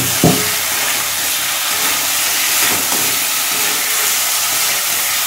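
Fish heads sizzle loudly in hot, frying spice paste as they are added to the pan, a steady, dense hiss with a brief splash at the start and no talking.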